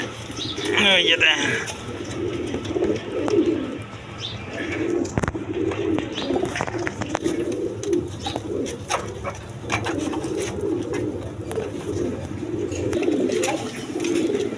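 A pair of high-flying Giribaz pigeons coo in a seller's loft, low and steady, with a voice talking over them and faint background noise.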